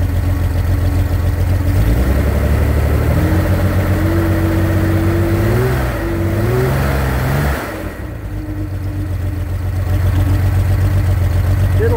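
A 2.9 engine idles on a test run, a steady loud mechanical hum with a slight pitch wobble, continuous throughout with someone talking over it.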